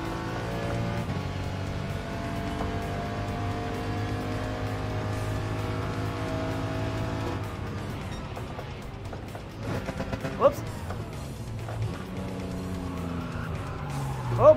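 A rear-wheel-drive race car in Gran Turismo 7 holds a steady engine drone, then loses grip and spins out with tire squeal and skidding scrapes, ending in a sharp knock.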